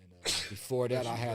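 A single sharp sneeze bursts out near the start, followed at once by someone speaking in an indoor interview setting.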